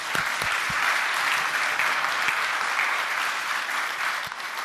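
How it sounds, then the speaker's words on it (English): A keynote audience at a gutter industry summit applauds a speaker with a full, sustained round of clapping, steady and fairly loud, with a few sharper claps standing out early before it eases slightly at the end. "So let's give him a round of applause."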